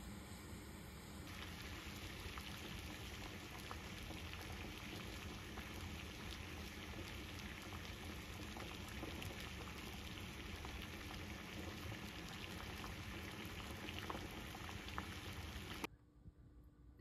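Steady bubbling and hissing of water boiling two eggs in a pot, a continuous rolling texture with no talking, ending abruptly.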